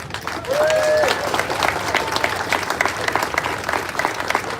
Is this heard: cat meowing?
no